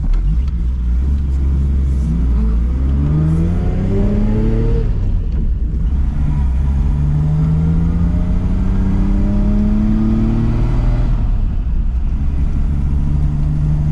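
A Pontiac with a 427 engine drives along, its loud engine note rising and falling through gear changes with a steady rumble and whir, heard from inside the car throughout.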